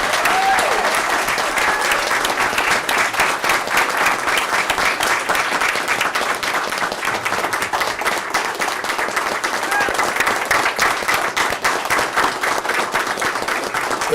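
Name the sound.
applause at a school board meeting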